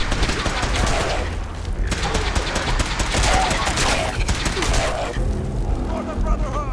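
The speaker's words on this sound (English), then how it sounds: "I could already hear the gunshots" Dense, continuous gunfire in the video game Fallout 4 with rapid overlapping shots and bursts, loud and close throughout.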